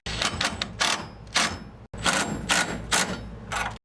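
Air bag suspension bracket bolts being tightened on a vehicle, a string of short ratcheting mechanical bursts in quick succession with a brief pause midway, close and fairly loud, with no talking.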